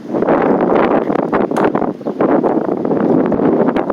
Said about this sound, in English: Got all this wind out here now.